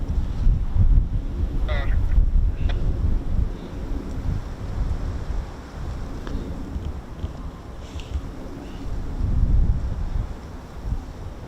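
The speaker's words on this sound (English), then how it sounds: "Wind blowing very strong from the west." Strong westerly wind buffets the microphone at an airfield by a runway, producing loud, continuous low rumbling gusts that swell and ease over several seconds with no talk.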